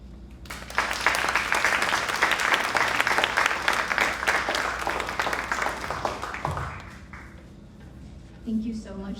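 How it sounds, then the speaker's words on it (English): A banquet crowd bursts into loud, sustained applause after a speech on democracy. It rises quickly, holds dense and steady for several seconds, then tapers off before a speaker's voice returns at the end. "Let's give her another round of applause"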